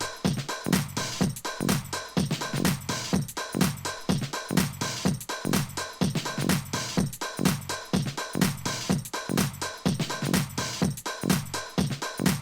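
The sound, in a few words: music intro with low cut EQ at 150 Hz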